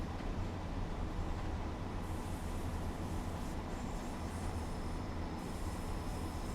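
A train on the West Cornwall line in Train Sim World 4, a steady low rumble of wheels and running gear rolling continuously at moderate level, with faint high whines drifting in and out.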